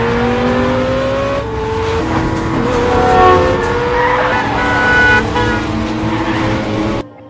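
A car chase from an action film: engines roar and strain loudly with tire squeals, skids and a horn toot, continuous for several seconds before cutting off abruptly.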